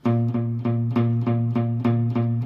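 Steady, rhythmic low guitar notes chug in even repeated strokes on the bass strings, played alone and clearly.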